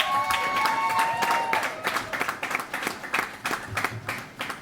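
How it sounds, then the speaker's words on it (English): A live podcast audience claps, starting full and dense, then thinning into scattered individual claps as it dies away. "Can we have a round of applause for Shireen as well?"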